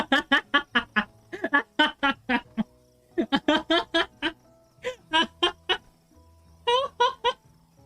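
Clucking that mimics chickens, rapid bursts of sharp squawking calls in clustered runs separated by brief pauses, loud and close with no other sounds.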